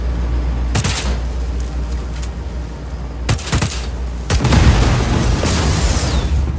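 Gunfire and an explosion destroying a generator in Just Cause 4: several sharp close shots, then a heavy blast that gives way to a continuing rumble, with no talking.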